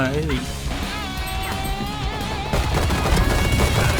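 Rapid automatic gunfire from the video game Valorant crackles in bursts behind excited commentary, with dense, continuous shooting building louder toward the end.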